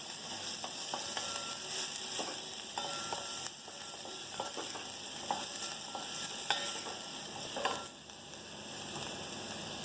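Onion sautéing in a pan for a black-eyed bean curry, with a steady close sizzle and repeated scraping stirs of a spoon against the pan, no talking.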